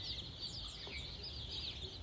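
Local free-range chickens on a small low-cost poultry farm cluck softly and steadily, with occasional higher calls over a constant background hum.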